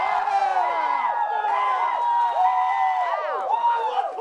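A crowd of audience members cheers, whoops and shouts in a loud, sustained burst, voting by noise for Carson as the winner at a sports event; overlapping voices fill the whole stretch.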